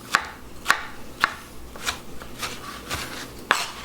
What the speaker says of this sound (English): Slice them up, put them all right there together.